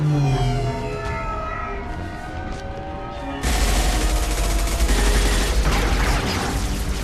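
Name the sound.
gunfire in video game Mass Effect 2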